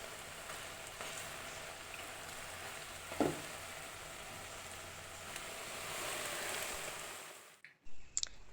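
Vedailota leaf pakoras frying in hot oil, a steady soft sizzle that holds for several seconds with one brief louder crackle, then cuts to near silence near the end.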